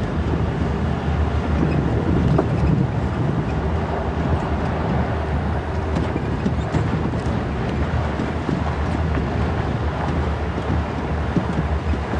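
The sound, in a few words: chilly wind on a safari drive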